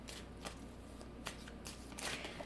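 Tarot cards shuffled by hand in a quiet room, a soft continuous riffle broken by several sharper slaps and flutters, close and fairly faint, with no talking.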